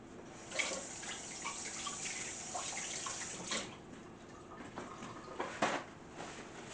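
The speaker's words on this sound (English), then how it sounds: "Wash my hands." Hands wash under a running kitchen faucet, a steady hiss of flowing water with splashy bursts and clatters as the hands move through the stream, fairly close and with no talking.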